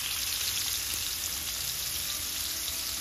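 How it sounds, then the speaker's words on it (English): Meatballs frying in about a quarter cup of olive oil, a steady, dense sizzle that holds evenly throughout with no voices over it. "we're cooking them in olive oil"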